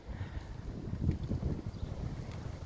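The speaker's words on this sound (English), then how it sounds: "Oh, hold on, it's windy." Low, gusty wind buffets a microphone in uneven rumbling bursts, fairly quiet overall, with no talking.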